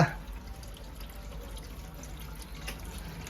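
Water runs steadily from a tap into a container as it fills, a soft continuous rushing and trickle that stays fairly even throughout with no voices.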